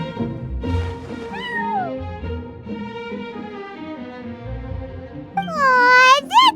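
Sir Pouncelot, a cat in the video game Genshin Impact, meows repeatedly. The meows are clear and close, with one drawn-out cry early and a louder, rising yowl near the end, over soft background music.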